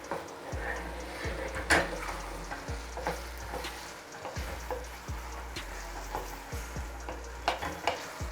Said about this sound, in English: So I'm going to be giving this a good stir.